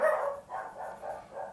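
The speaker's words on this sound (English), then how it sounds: "sorry about the dogs" A dog barks indoors in a short run of three or four muffled woofs at a steady rhythm, heard at moderate distance with no talk over it.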